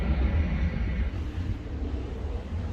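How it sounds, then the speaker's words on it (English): Airplane passing overhead outdoors at a Santorini winery, a loud, steady low rumble with wind noise that holds for the whole stretch and carries no voices. "Sorry about that plane"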